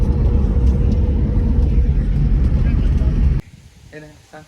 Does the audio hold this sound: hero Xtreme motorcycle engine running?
yes